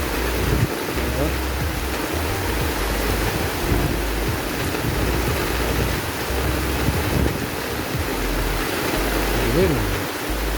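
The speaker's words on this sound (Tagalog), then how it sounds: "lakas ng ulan" Heavy typhoon rain pours steadily in a dense, continuous roar, with a voice talking faintly underneath.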